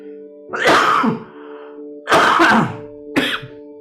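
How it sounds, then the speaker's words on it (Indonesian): Three coughs in a row, close and fairly loud, the first two longer and harsher, the last one short, with a steady faint hum underneath. "saya batuk dulu"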